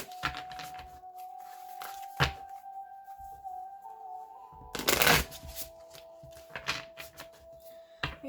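Light Seers Tarot cards shuffled by hand in several quick riffling bursts, one longer and louder than the rest, close up over a steady tonal hum, with no talking.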